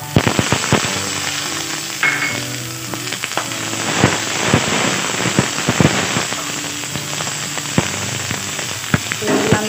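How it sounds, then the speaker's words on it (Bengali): Green peas fry in a pan of hot oil, crackling and popping sharply over a constant sizzle, with irregular loud spits and occasional scraping stirs close by. "এবার আমি মটরশুঁটিগুলো দিয়ে ভেজে নেব।"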